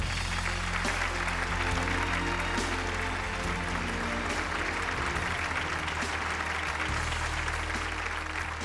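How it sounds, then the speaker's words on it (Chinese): A studio audience at a Chinese television talk show applauding to welcome a guest, dense steady clapping from a large crowd that holds loud and unbroken throughout with no one talking. "掌声欢迎小雨"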